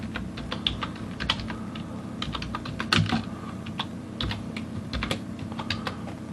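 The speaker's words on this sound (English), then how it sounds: "So let me type it in." Keys tapped on a computer keyboard in an irregular run of close, crisp clicks, alone and moderately quiet.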